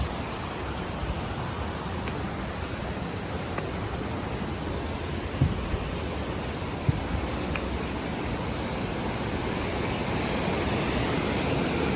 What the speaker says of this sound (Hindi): और ये जो नीचे रिवर बह रही है